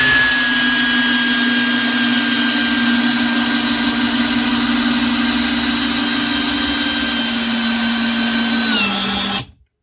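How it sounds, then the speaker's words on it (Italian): A TOPSHAK 20V cordless drill driver drives a screw into wood, a steady loud motor whine holding for about nine seconds before dropping in pitch and cutting off abruptly. "voglio vedere se questo avvitatore riesce ad avvitare senza difficoltà"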